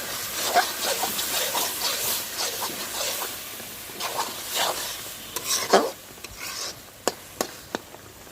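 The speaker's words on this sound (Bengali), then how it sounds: "ধুন্দুল ভাজি করা হচ্ছে" Home-grown ridge gourd frying in a pan while a spatula stirs it: repeated scraping strokes over a soft sizzle, ending in a run of sharp, distinct clicks of the utensil against the pan.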